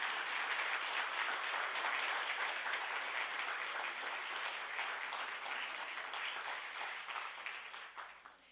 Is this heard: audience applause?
yes